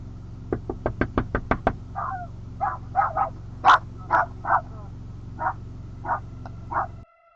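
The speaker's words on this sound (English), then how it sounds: "she heard something else, a knock from outside" A quick run of sharp knocks on a door, followed by scattered rougher thumps and raps spaced irregularly, fairly close and clear with no talk.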